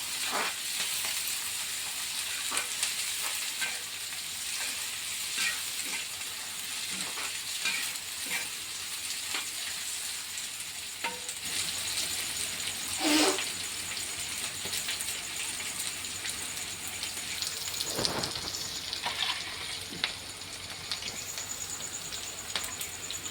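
Tempering stir-fried in a pan for phodnichya surgundya: a steady, close sizzle runs throughout, broken by scraping spoon strokes and a few louder stirring scrapes, with no talking.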